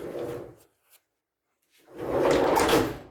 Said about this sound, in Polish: drzwi się zamykają.